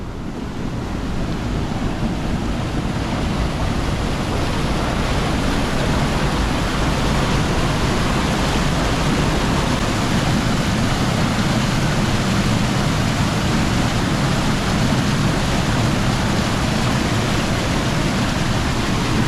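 Loud, continuous rushing water at Cogglesford Water Mill on the River Slea, a dense unbroken roar like a weir or mill race, close and steady throughout.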